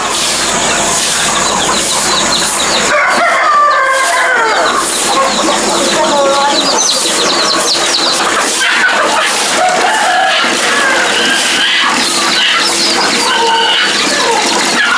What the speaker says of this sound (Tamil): கிட்டத்தட்ட ஒரு நூறு கோழிக்கிட்ட வச்சுருக்கோம் நாட்டுக்கோழி